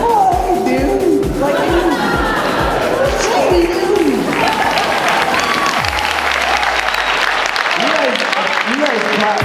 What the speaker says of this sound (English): You guys clap too easy. You're very easy clappers.